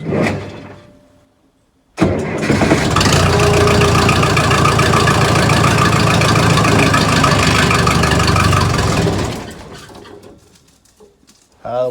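A 1976 Case 450 dozer engine starting and idling, loud steady rough chugging that fires up after a brief quiet moment and runs for several seconds before dropping off, with a faint voice at the end.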